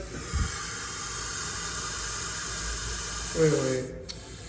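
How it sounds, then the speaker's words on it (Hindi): A red snake hisses with a steady, airy sound like escaping steam throughout, with a voice briefly calling out partway through. "ये कितनी ज़्यादा हिसिंग क्यों कर रहे हैं मुझे समझ में नहीं आ रहा"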